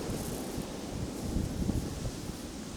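Steady wind blowing on a shingle beach while fishing, a constant rushing roar buffeting the microphone, fairly loud with no talking.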